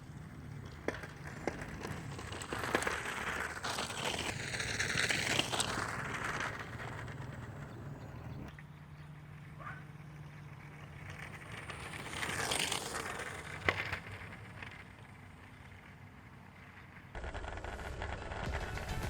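A Bird ES4-800 electric scooter rolls over a rough dirt road, giving a steady, noisy crunching rumble full of vibration, with wind buffeting the microphone throughout and no talking.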